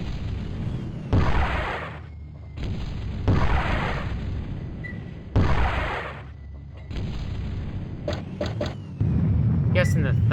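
Thumper weapon blasts in the video game Battlezone 98 Redux boom out as a series of heavy, rumbling explosions roughly every two seconds, followed by sharp crackling bursts near the end, all loud and close.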